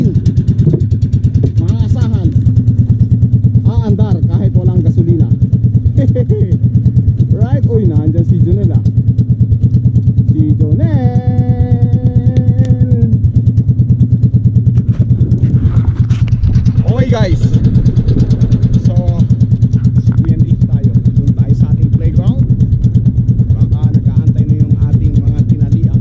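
A Robin boat engine runs loud and steady throughout, a constant low drone, while people talk over it.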